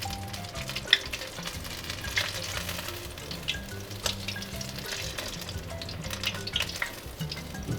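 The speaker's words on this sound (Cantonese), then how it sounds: "你炸好多，一次炸好多噶嘛" Steady crackling sizzle of food deep-frying in hot oil, close and continuous, with occasional clinks and stirring sounds.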